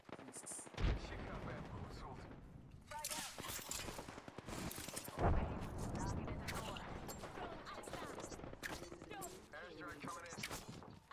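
Gunfire in the video game Apex Legends, with bursts of rapid automatic shots and a few heavier single blasts over several seconds, mixed with players talking.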